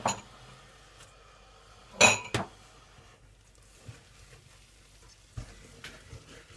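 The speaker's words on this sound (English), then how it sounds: "stay really close to your pot and carry on stirring" Adzuki bean paste being stirred in a pot over lowered heat: sparse metallic clinks and scrapes of a utensil against the pot, a couple of sharper knocks, over quiet background with no talk.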